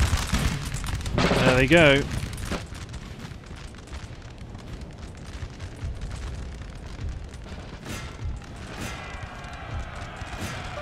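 Musket volleys crash out against partisans in Napoleon Total War, a dense rolling burst of massed gunfire with crackling reports, followed by a scattered battlefield din and occasional distant shots while someone talks over it.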